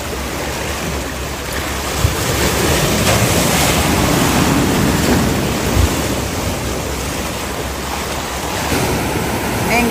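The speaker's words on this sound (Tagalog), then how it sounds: "Lakas ng alon guys oh" Ocean waves roll and crash at Cheung Sha Beach in a steady, loud roar of surf with heavy wind buffeting the microphone and a couple of brief thumps, no clear talking.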